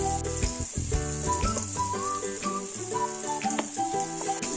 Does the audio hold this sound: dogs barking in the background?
no